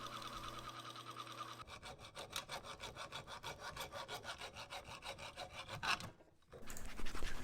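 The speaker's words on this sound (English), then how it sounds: "I just use the tried and true hacksaw method to cut it off" A hacksaw cuts through a machined aluminum switch part in quick, even back-and-forth strokes, close and fairly quiet. The strokes pause briefly near the end and then resume.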